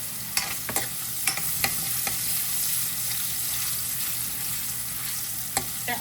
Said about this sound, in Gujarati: અને પછી એની અંદર નાખીશું લસણ જે આપણે પીસીસ કર્યા હતા એ. અને લસણને મસ્ત થવા દઈશું.